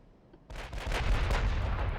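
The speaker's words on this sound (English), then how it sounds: "Battlecruisers are firing." Heavy battlecruiser guns fire in a naval warfare game, a sudden loud deep boom that rolls on as a sustained rumbling barrage without talk.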